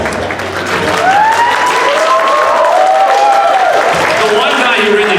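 Loud, continuous applause from a convention panel audience at Youmacon 2018, sustained throughout with voices calling out and whooping over the clapping.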